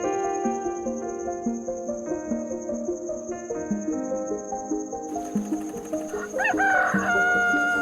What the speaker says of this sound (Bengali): এটা হলো মুরগি। মুরগিকে ইংরেজিতে বলে হেন।